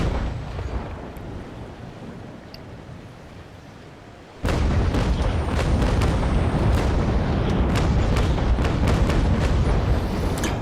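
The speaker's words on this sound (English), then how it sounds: "All 3 decks of guns loaded into his side." Broadside cannon fire from three gun decks of the ship Bellona in the naval game Naval Action erupts in a sudden dense barrage of booms after a quieter lull, sustained and loud.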